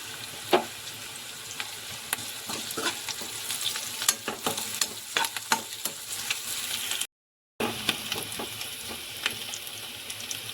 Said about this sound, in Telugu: ఇప్పుడైతే దంచుకున్న అల్లం వెల్లుల్లి కొంచెం కరివేపాకు